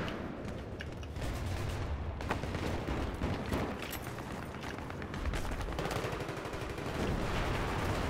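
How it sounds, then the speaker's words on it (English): Gunfire in a Battlefield-style shooter on the Azadi Palace map keeps up the whole time: dense automatic bursts and single shots pile up loudly with no pauses, and no one is talking. "Hey, you're getting shot at, Potato."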